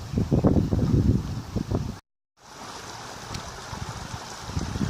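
Water of Toolern Creek, a tributary of the Werribee River, rushes and burbles in a steady close wash, broken by a brief dropout in the middle before the flow resumes.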